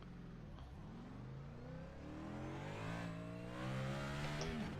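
Race car engine lapping an Indianapolis oval in iRacing, a steady rising whine with shifting harmonics that builds louder toward the end as the car accelerates, with no talking.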